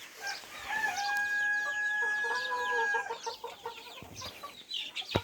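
Sonali chickens at a poultry farm in Chitwan, with a rooster giving a loud, drawn-out crow close by while hens cluck and chatter around it, followed by scattered softer clucks.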